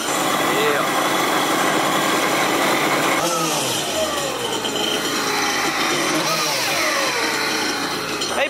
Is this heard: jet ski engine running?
yes